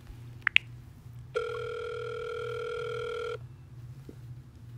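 A phone rings on an iPhone prank-dial app, one steady tone-like ring lasting about two seconds over a low background hum, loud and close.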